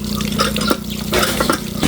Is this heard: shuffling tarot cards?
no